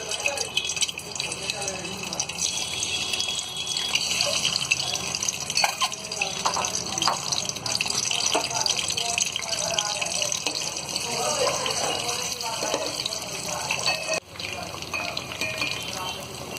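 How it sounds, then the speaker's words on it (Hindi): Eggs pricked with small holes fry in hot oil for an egg dum biryani, giving a continuous hissing sizzle with fine crackles that holds steady and close for the whole stretch. "तो यहाँ पर हम ये अंडों को फ्राई कर लेंगे।"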